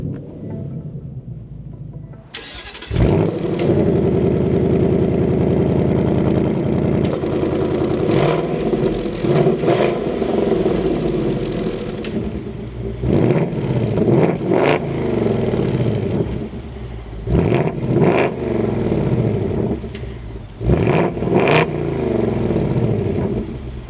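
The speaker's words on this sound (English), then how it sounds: "keep my foot on the brake, I'm gonna fire it up." A 2026 Ford Mustang GT Premium engine cranks and roars to life after a short silence, settling into a loud, rumbling idle with several sharp revs rising and falling.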